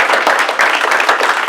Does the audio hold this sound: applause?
yes